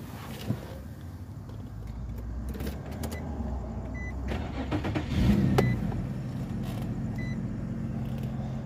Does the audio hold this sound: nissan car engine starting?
yes